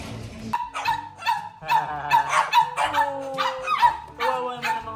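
Dogs, house pets settling into a new home, bark and yip in short repeated bursts close by, with some whimpering between the barks.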